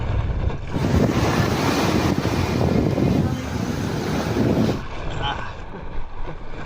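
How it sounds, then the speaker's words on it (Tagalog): Strong wind buffets the microphone in a loud, continuous roar while paddling a homemade kayak into the wind over big waves, with water splashing beneath; the gusts ease slightly toward the end. "Malakas yung hangin."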